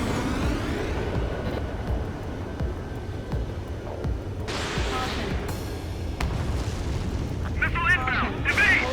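In the combat flight game Ace Combat 7, a missile launches and detonates amid a constant low jet-engine rumble, with a rushing burst and later crackling blasts; radio voices talk over the action.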